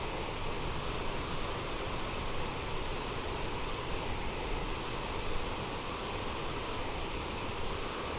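Steady, loud broadband roar of an Aerosoft CRJ's jet engines in Microsoft Flight Simulator 2024, a constant cabin-like drone with no breaks or speech throughout.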